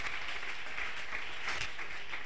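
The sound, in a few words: congregation applauding the Lord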